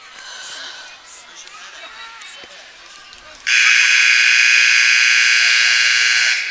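A very long timeout buzzer blares at a 7th grade girls' basketball game, a loud, steady electronic tone that cuts in abruptly and holds for about three seconds over gym chatter and faint bouncing.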